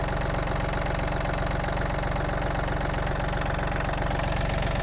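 A Yanmar AF-28 mini tractor engine idles close up with a loud, steady, even diesel chug that does not change, and no one talks.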